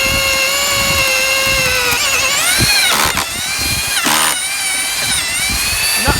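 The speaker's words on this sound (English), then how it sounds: "So we'll use this 26mm auger bit." A power drill with a 26mm auger bit bores through timber, a loud, close whine that dips and rises in pitch as the bit bites, with short grinding bursts midway.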